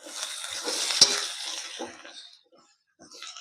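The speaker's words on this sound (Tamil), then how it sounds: "சாம்பார் தூள் ஓரளவுக்கு நல்லா கிண்டி விட்டுட்டு" Sambar powder being stirred in a pan while making radish sambar, a scraping, sizzling clatter for about two seconds with one sharp utensil knock, then fading to quiet with a faint scrape near the end.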